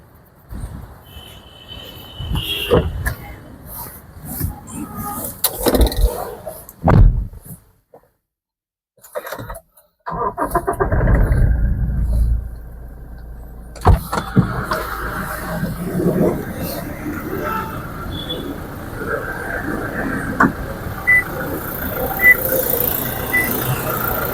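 A Toyota Fortuner 4x4 diesel engine cranks and catches, then settles into a steady low idle with a persistent rumble, voices talking intermittently nearby.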